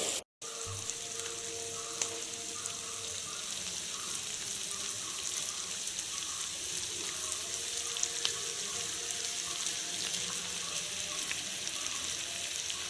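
Squid pieces fry steadily in hot oil with curry leaves for a dry fry, a continuous close sizzle with fine crackling and no voices.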